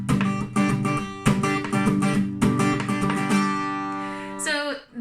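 A guitar plays a basic down, down, up, up, down strumming pattern, here with a looser variation, with ringing chords in steady rhythm for several bars before fading as a voice briefly begins at the end.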